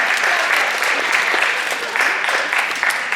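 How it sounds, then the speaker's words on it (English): An audience at a high school post-prom show applauding the post-prom committee with sustained, even clapping from a crowd that fills the room from start to finish. "Let's give the Post-Prom committee a big round of applause"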